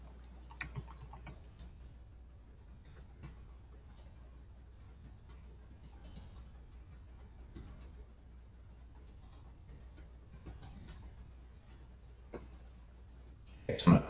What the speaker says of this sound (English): Then I just type in my regular note.